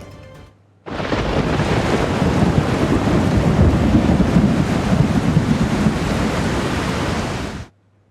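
Heavy monsoon rain pours down in Bardoli, Surat, Gujarat, a dense steady roar that starts abruptly, holds loud and even for about seven seconds, then cuts off.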